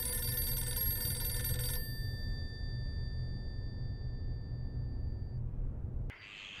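A telephone bell rings loudly for about two seconds, its metallic tone lingering and fading before an abrupt cut to a different sound.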